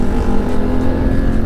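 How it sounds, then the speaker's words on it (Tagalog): Loud exhaust from arriving riders' motorcycles on a group ride to a bay resort, a steady, close, throaty engine drone with no pauses. "ang ingay ng tambutso"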